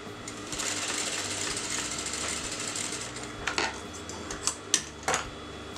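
A sewing machine stitches a canvas neckline for a kameez or kurti, its steady whirring run filling the first few seconds, then stopping as a few sharp clicks and handling taps follow.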